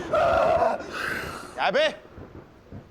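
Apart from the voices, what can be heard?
loud sneeze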